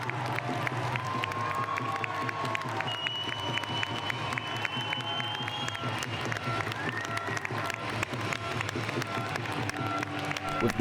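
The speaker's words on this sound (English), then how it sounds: "Phantoms come out to a bit of a quieter cheer." At an NIHL ice hockey playoff game, a rink crowd gives a fairly subdued cheer with scattered clapping and shouts as the Phantoms skate out, sustained throughout.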